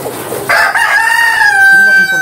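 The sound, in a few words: chickens clucking and rooster crowing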